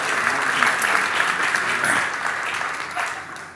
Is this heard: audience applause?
yes